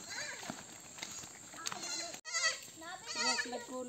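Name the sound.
goat bleating, a mother goat with its kid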